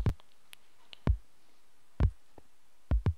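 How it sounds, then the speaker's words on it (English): Heartbeat pulses in a video game mod testing facility, deep thuds arriving in paired lub-dub beats roughly once a second, loud and isolated against near silence. "And you can hear the heartbeat of the whole place."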